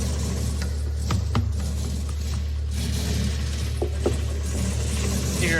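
Rough-running LS crate engine fitted in a chopped Model A hot rod, with a possible exhaust leak and a knock: a steady, loud idle rumble with uneven clatter and ticking throughout, no talk.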